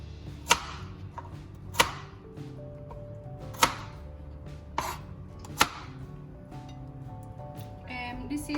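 A kitchen knife chops red onion and garlic on a cutting board, with four sharp, evenly spaced strikes about a second apart over a steady background hum.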